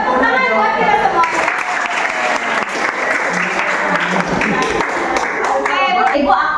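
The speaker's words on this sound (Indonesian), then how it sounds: "tepuk tangan buat kita semua" Students in a classroom clap together in sustained, dense applause, a steady wash of hand claps running the whole time with scattered voices mixed in.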